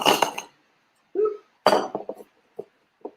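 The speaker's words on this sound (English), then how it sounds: "I'm gonna ice my glass" Ice dropped into a cocktail glass while mixing a Scandinavian tiki drink gives a cluster of bright clinks, then a hollow knock and several sharper tinkles with short pauses, close and fairly loud with no talk.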